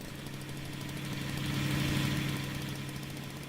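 A car engine runs steadily in the Jalopy driving game, a moderate mid-pitched hum with a faint rhythmic knock, swelling slightly in the middle and heard alone without talk.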